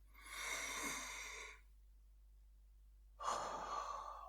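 One slow, deep inhale and then a long exhale follow each other during a meditation. The breaths are close and soft, with a brief quiet pause between them and no speech.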